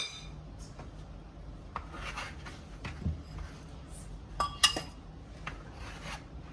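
A knife scrapes chopped parsley and red onions from a board into a bowl with quiet, irregular scraping and rubbing strokes and a few light taps and clicks, and no talk.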